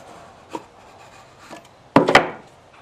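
A piece of wood is slid out from beneath the cylinders of a Norton race engine, giving a few faint scrapes and then a louder double knock and rub of wood near the end.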